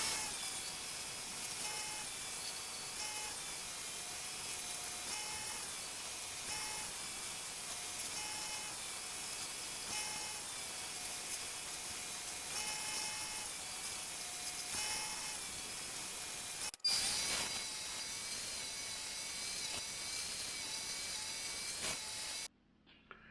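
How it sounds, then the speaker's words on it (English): A belt grinder shapes a forged twisted-pattern knife blade with a steady high whine and abrasive hiss that runs on without pause, broken by one brief drop before it resumes and then cuts off near the end. "we'll get to putting our final shape on it with the belt grinder"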